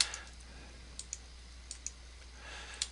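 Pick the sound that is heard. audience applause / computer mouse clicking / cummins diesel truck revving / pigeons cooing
computer mouse clicking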